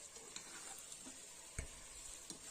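Ginger garlic paste fries in a pan for rice bath, a faint, soft sizzle under a steady high hiss, with a few light ticks and one dull knock of a spoon against the pan.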